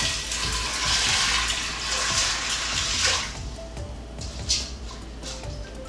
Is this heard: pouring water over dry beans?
yes